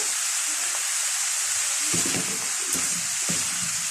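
Half a tomato dropped into a pan of sizzling zucchini and prawn curry: a constant loud frying hiss with a few soft thumps and stirring sounds partway through.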